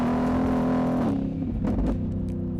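Car engine runs steadily near and loud with a droning tone, then shifts in pitch as it changes speed, with no voices over it.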